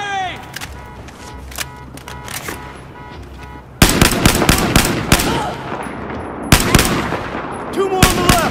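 Gunfire from the game Battlefield 4, scattered shots that break into dense rapid bursts of automatic fire, loud and close, with occasional distant cracks.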